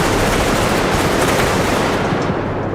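Weapons fire in the video game Bodycam, a dense, loud, continuous roar of rapid automatic gunfire filling the whole stretch, with no voices.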